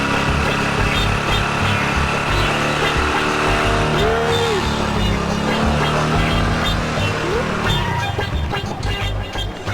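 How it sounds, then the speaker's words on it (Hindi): A car engine roars loudly and continuously, with shifting pitch, rising and falling revs and a brief tire squeal, close up throughout. "गाड़ी का आवाज"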